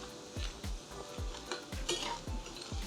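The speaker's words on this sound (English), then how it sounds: "we're gonna put these onions in and we're gonna immediately add our meat. So you can hear that cooking now. We'll kind of stir it around" Chopped onions sizzle in a hot skillet while a utensil scrapes and stirs them in a steady rhythm of soft knocks, quiet and close with no talking.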